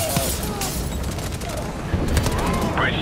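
Gunfire in Call of Duty 4: Remastered, rapid bursts of rifle and machine gun shots crackling close and loud over background noise, with muffled voices mixed in.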